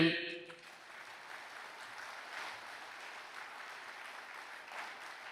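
An audience at a religious talk clapping together, a steady moderate patter of many hands following a brief bit of speech at the start.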